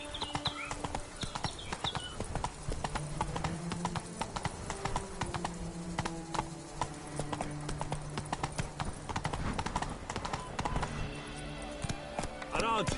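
Roach the horse gallops in The Witcher 3 with rapid, continuous hoofbeats that stay steady throughout, mixed with game music and occasional character voices.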